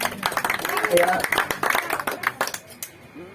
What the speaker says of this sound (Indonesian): Kita berikan tepuk tangan buat pengurus yang lama.